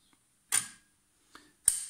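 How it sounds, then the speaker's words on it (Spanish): Three short mechanical clicks from the shutter of a bi-xenon headlight as it is switched on to change the beam cutoff, the second softer, the first and last sharp. "Y ahora voy a activar el obturador para ver la diferencia."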